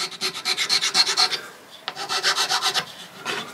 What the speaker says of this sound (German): den Rest mache ich dann noch mal mit einer kleineren Feile